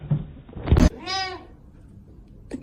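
A male cat lets out a single odd, wavering bleat-like cry that sounds almost goat-like, close and fairly loud, after some handling noise, with a faint thump at the end.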